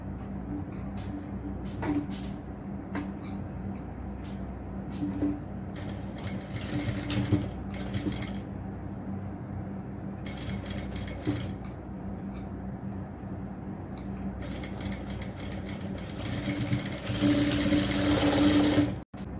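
A sewing machine stitches a triple-frill nighty in a tailoring class, running in short, close whirring bursts separated by brief pauses, then a longer, louder run near the end.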